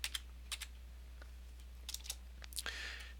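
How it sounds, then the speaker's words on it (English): Arrow keys on a computer keyboard are tapped in a few short, sparse clicks, some in quick pairs, over a low steady hum with no voices. "you can use the arrow keys on your keyboard."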